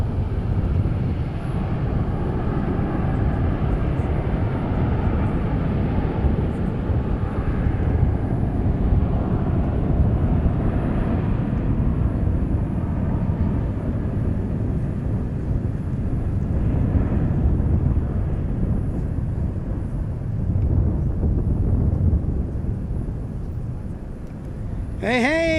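A Boeing 737-800 airliner passes at DFW airport on a hot, breezy day, a loud, steady broadband jet roar holding for the whole stretch, mixed with wind buffeting.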